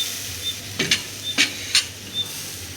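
Fresh grated coconut fries in ghee with a soft, steady sizzle, broken by a few quick scraping stirs of a spoon against the pan.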